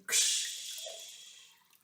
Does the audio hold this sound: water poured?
yes